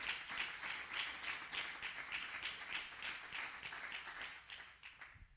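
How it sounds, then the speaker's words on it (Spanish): A church congregation applauds steadily, a dense wash of many hands clapping at moderate distance that carries on evenly before thinning out at the end. "Dale más fuerte ese aplauso al Señor"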